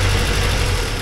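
A 1979 Porsche 924 engine running rich and unwilling to rev, a loud close steady low rumble with a rough idle and no rise in pitch.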